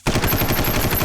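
A short, loud burst of rapid cartoon gunfire, close and filling the whole moment.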